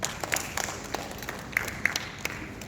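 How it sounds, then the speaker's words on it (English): An audience at a university awards ceremony claps, heard as a soft, fairly distant scatter of individual claps rather than a full roar, fading toward the end. "Please a round of applause at this point."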